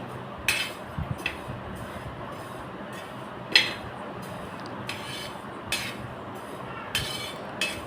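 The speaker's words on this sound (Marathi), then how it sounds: "हे जिरे घालून घ्यायचं आहे आणि हे परत भाजून घ्यायचं आहे चांगलं" Flax seeds and cumin dry roasting in a pan, with a faint steady rustle broken by sharp metallic scrapes and clinks of a spoon against the pan every second or so, close by.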